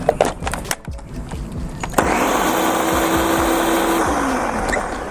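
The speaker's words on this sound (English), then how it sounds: "Let's give this a little blitz." A few clunks and knocks, then a blender kicks on and whirs loudly and steadily, churning thick gazpacho soup close by.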